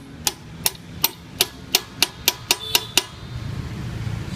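A wheel bearing is tapped into the hub of a vintage Vespa with sharp metal-on-metal strikes, about ten evenly spaced taps close by, followed by a few seconds of quiet handling noise.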